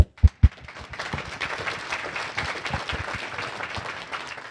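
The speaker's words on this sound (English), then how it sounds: "I want to call a big round of applause for all of them" Audience applause at a myeloma round-table event, a couple of sharp isolated claps first, then a steady, moderately soft patter of many hands continuing to the end.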